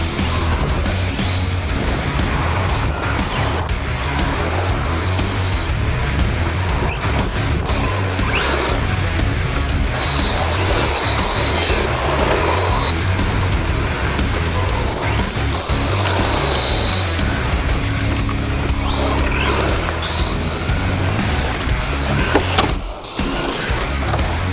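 A rally-style RC car drives and slides across dirt and gravel, giving a continuous loud whine and crunchy gravel noise with scrabbling tyres and small impacts throughout, close to the listener.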